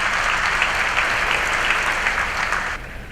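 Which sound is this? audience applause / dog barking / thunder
audience applause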